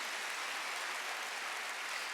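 A church congregation applauds during a Sunday sermon, a dense, steady patter of many hands clapping together, continuous and even for about two seconds with no voices over it.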